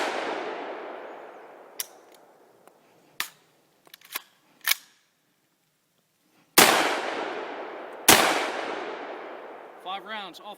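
A pistol fires Tula ammunition outdoors in a run of sharp, loud single shots with uneven gaps, some louder and closer, each ringing off in a long decaying echo, with a metallic rattle near the end.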